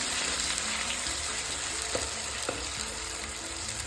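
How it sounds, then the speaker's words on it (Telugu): Whole garam masala being stirred in a frying pan, a steady oil sizzle with a few light scraping taps of the spoon, close and continuous with no talking. "దాన్ని బాగా కలుపుకొని తర్వాత ఈ మసాలా దాంట్లో వేసేసుకొని ఒకసారి బాగా కలుపుకోవాలండి"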